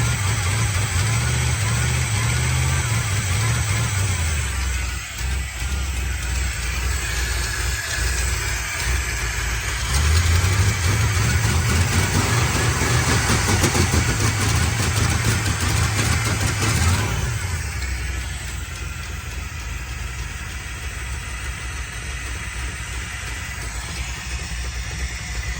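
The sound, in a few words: 1975 Chevrolet Corvette engine starting and idling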